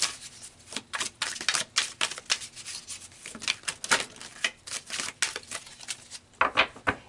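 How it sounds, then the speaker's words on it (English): Tarot cards are drawn and handled close by: irregular rustles, slides and soft snaps come in quick clusters with short pauses, and no voice is heard. "So let's pull some more cards."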